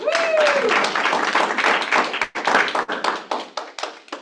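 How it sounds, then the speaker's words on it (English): A small group claps together, a brisk burst of applause that thins into scattered individual claps as it fades, with a brief voice underneath. "let's give her a round of applause"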